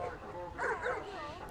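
Trained rescue dog, able to pull people from rubble, barks and yips a few times close by during a demonstration, mixed with people talking in the background.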